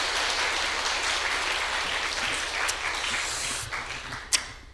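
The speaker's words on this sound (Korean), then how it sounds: "하나님께 영광의 박수, 영광의 박수" A church congregation applauds giving glory to God, a dense, continuous wash of many hands clapping at a distance, with a few sharper claps standing out near the end.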